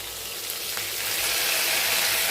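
Green chillies and curry leaves hit hot oil with cumin seeds for an egg masala curry, giving a steady, close hiss of frying that swells slightly louder across the short stretch, with no voices.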